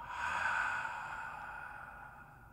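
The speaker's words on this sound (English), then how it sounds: "breathing deep, hold it, out through the mouth" A single deep breath exhaled out through the mouth, a soft breathy rush that swells and then gently fades, close and quiet, with no talking.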